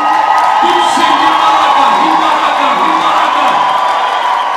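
A church congregation cheers and shouts in praise of God, a loud, continuous crowd roar with whoops and raised voices and some clapping mixed in, sustained throughout.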